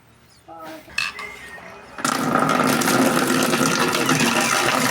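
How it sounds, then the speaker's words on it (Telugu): Water pours onto plants in a sudden strong, continuous gush that starts partway through, after a few brief voice sounds and light knocks. "అలా వాటర్ అట్టేద్దాం, చెట్లలో వాటర్ పా."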